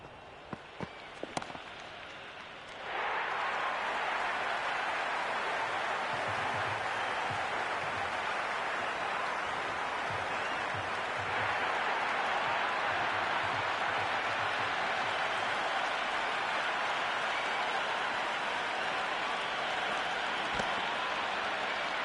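A packed cricket stadium crowd at an IPL T20 match, KKR in play, breaks into sustained loud cheering and applause after a couple of sharp knocks, a steady roaring wash that holds for about twenty seconds.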